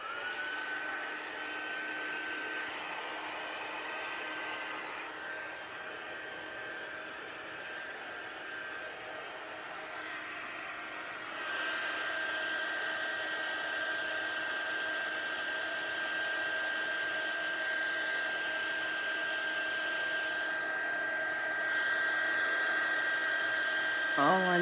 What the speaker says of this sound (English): And then I'm going to heat emboss it.